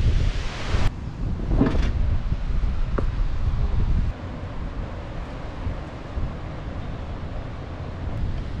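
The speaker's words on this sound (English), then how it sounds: "Pretty windy." Strong wind on a mountain road at about 1260 m in Hokkaido's Daisetsuzan National Park buffets the microphone in a continuous low roar, gusting harder at the start and easing slightly midway, with no voices.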